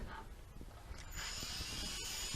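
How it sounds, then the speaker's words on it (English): A power drill bores a pilot hole upward through the bottom into a wooden cabinet, with a steady close whirring buzz running through most of the short stretch and no talking. "drill a pilot hole up through the bottom into the wood like this."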